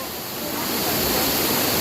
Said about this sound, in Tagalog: Papasok na doon sa kanila yung tubig.